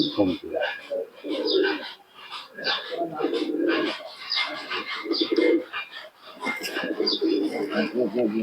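Several pigeons coo in soft, overlapping rolling calls nearby, a continuous warbling chorus with short pauses between phrases.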